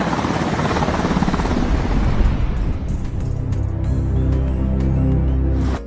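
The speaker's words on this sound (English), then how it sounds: "flying cars are just like helicopters" A helicopter in flight gives a loud, steady roar of rotor and engine noise that holds for the whole stretch with no voices over it.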